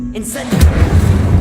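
Incendio fire spell cast in the video game Hogwarts Legacy, a sudden fiery burst that follows a brief spoken incantation, then a rumbling crackle that continues loudly to the end.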